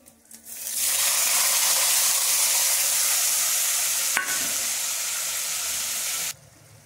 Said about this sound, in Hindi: अब मैं मसाले कढ़ाई में डाल देती हूँ।